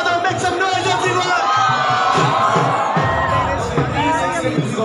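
A large crowd cheers and shouts steadily at a 2 km men's and women's race event in Kanpur, loud and continuous, with whoops and babble throughout.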